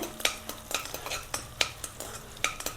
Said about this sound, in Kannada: ನಾವು ಧನಿಯಾ ಹಾಕ್ಕೋಬೇಕು. ಎಣ್ಣೆಲಿ ಚೆನ್ನಾಗಿ ಫ್ರೈ ಆಗಬೇಕು.